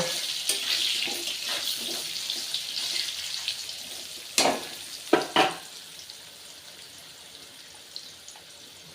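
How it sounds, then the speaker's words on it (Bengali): Potato pieces frying in a pan of oil for a fish curry give a continuous gentle sizzle, broken by a few sharp scraping clatters of stirring near the middle. "আলুগুলো একটু ভাজা ভাজা করে নেব"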